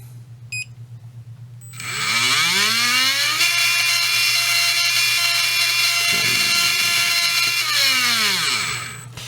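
A rebuilt Tekin Redline G3 17.5T brushless motor spins up unloaded with a rising high-pitched whine, holds a steady shrill whir at speed, then winds back down, over a low constant hum.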